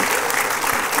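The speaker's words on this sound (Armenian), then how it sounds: "Ծափարենք" A television game show studio audience claps for the winner, a dense, uniform wash of applause that holds at full strength throughout.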